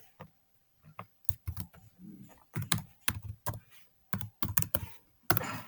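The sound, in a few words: typing a cat command on a computer keyboard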